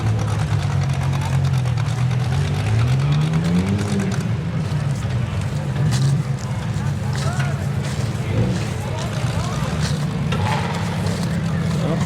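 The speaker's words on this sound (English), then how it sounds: "See a few more stock cars coming in." Stock cars roll in at a fall demolition derby in Connersville, their engines rumbling low and revving in rising sweeps, with a person talking over the motor noise throughout.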